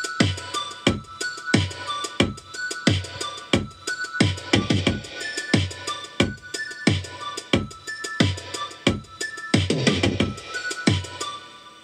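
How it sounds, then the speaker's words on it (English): Korg M1 synth Air Mallet preset playing a steady repeating arpeggio, bright mallet-like plucked notes in an even rhythm with a soft low pulse under them, moderately loud with no voices. "we have a second Air Mallet doing some arpeggio sound"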